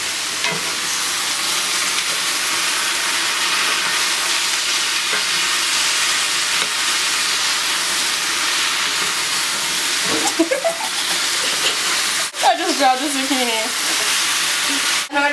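Vegetables for a vegetarian frittata sizzle and fry steadily in a pan while being stirred, a continuous close hiss with occasional scraping, and brief voices break in near the end.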